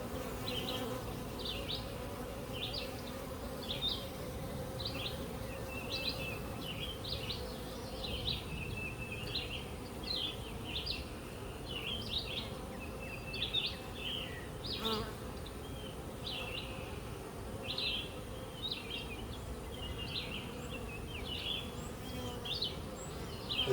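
Honeybees buzz steadily around an open hive full of brood frames, a continuous low drone with many fluttering passes of individual bees close by, and no talking.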